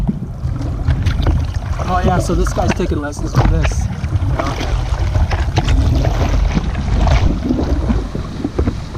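Surfboard paddling on the ocean at Waikiki: wind buffeting and splashing water strokes carry on steadily while people talk close by.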